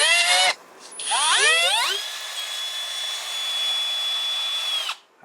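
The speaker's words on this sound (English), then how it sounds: "Let that drill bit finish the final little cuts nice and slowly" A drill bit cutting through a metal stud whines at high pitch, rising in speed through a short burst, then holds a steady grinding tone for several seconds before stopping abruptly.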